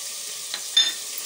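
Boneless chicken frying with spices in a pan gives a steady, bright sizzle, with a brief stirring scrape partway through, close and without talk.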